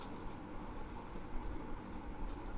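Origami paper being folded and creased by hand, a close, continuous soft scraping and rustling with light crinkles as fingers press along the fold.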